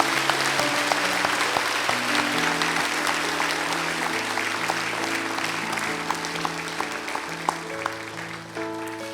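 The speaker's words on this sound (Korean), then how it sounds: "큰 박수로 한번 축하 격려해 주시기 바랍니다" A church congregation at a Sunday missions service applauds a missionary family with sustained, full clapping throughout, while organ or keyboard chords play underneath.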